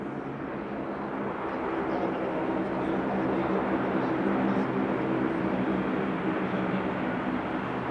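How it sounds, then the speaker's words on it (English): A 36 Squadron RAAF transport aircraft performs a tactical landing at an air show, giving a steady, loud, broadband engine roar that holds throughout without pause and with no talk over it. "a tactical landing by 36 Squadron, and how quickly you can stop and disgorge your cargo."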